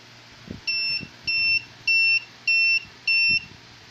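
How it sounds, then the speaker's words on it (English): A smart biometric vault's electronic buzzer sounds five evenly spaced beeps, each a steady high tone about a third of a second long, with faint tapping noises underneath. "so yung 5 beep na yon ng ating buzzer is signifying na yung system natin is now prepared"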